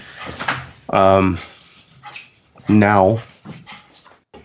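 A dog gives two drawn-out, rising whimpers with short yips, close and fairly loud, set between stretches of someone talking.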